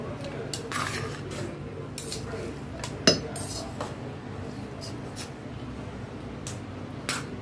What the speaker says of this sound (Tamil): நான் கத்தியால் கிளறேன்.